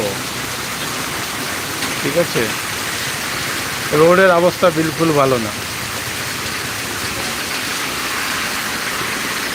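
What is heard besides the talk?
heavy rain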